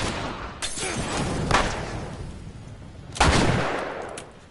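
Gunshots ring out in The Last of Us Remastered video game: several sharp, loud bursts spaced a second or more apart, each followed by a short echoing decay over a low background.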